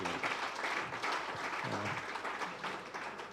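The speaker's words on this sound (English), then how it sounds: "Please, I'd like you to give yourself a round of applause" A conference audience of proprietors and principals applauds, steady massed clapping at a moderate, somewhat distant level throughout.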